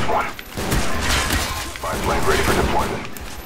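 Rapid video game gunfire bursts in a dense, close volley, bursts of shots overlapping with one another across the whole stretch.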